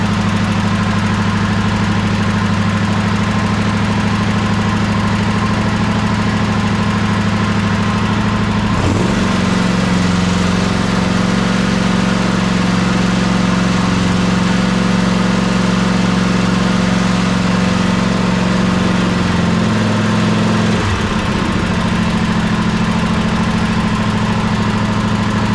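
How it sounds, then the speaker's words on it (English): A Toro zero-turn mower engine drones steadily, then revs up to full RPM partway through for a louder, deeper roar before dropping back, running close and with no talking. "We're getting 27 volts at full RPM to the stator"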